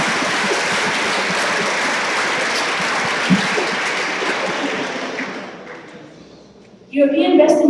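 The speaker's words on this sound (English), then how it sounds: "I would like to ask all of you to great round of applause for all winners of today." A large audience at the closing ceremony of the 2014 European Best Engineering Competition final in Riga applauds the winners with loud, dense, sustained clapping that gradually fades, then a new burst of sound starts near the end.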